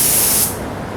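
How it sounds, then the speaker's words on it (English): Sata spray gun spraying finish onto a wooden face frame, a loud hissing burst of atomized spray that cuts off after about half a second, leaving quiet room tone. "So I'm going to spray this straight on, or even a little bit underneath"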